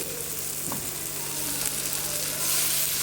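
Spices sizzle steadily in hot oil in a frying pan while dal khichdi is being cooked, a continuous close crackling hiss with a brief stir partway through and no voices.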